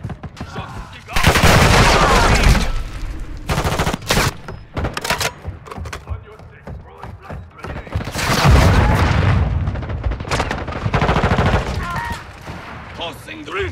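Gunfire and smoke grenade bursts in the video game Call of Duty: Modern Warfare II, with rapid rattling shots, heavy thumps and booms in dense clusters and brief gaps between volleys.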